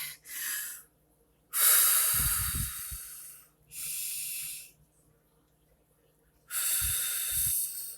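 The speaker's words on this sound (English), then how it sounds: "I'm happy with my breathing." Heavy breaths drawn and pushed out in separate bursts, close and breathy, with long silent gaps between them and a few low snorting rumbles during two of the bursts.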